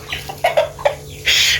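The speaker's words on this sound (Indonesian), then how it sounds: "Ayam berisik kali kau ayam." Chickens cluck loudly and close by in short bursts, ending in a longer squawking call, with no one speaking over them.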